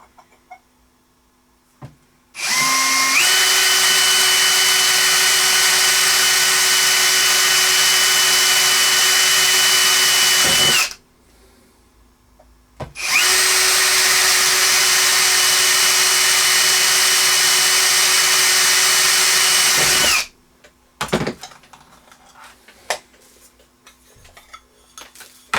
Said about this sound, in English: So we'll use a 3mm bit. And I'll put that underneath so I don't end up drilling the bench.